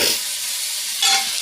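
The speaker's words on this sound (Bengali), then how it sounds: "আর এইদিকে আমি যে মশলা কষাই দিচ্ছি।" Spices sautéing in a pan give a brief, close sizzle with a soft stirring scrape at the start and again near the end.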